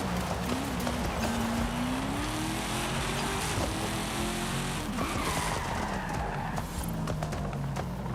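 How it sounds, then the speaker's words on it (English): A race car in Forza Horizon 5 revs hard, its engine note climbing and falling across gear changes, with continuous tire squeal and skidding at a loud, close level. "This engine sound is crazy."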